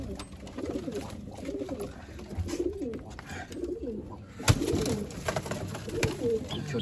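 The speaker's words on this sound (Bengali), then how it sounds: "অনেক পায়রা আছে দাদা, বাইরে থেকে ঠিক দেখাতে পারছি না আপনাদেরকে।" Many Madras pigeons coo inside a small loft, repeated rolling coos in a steady rhythm, close and moderately loud, with a sudden knock partway through and faint background noise.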